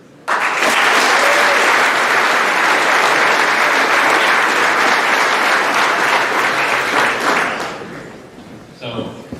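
An audience at an athletic awards night bursts into loud, sustained applause that carries for about eight seconds before tapering off, with a few voices audible at the close.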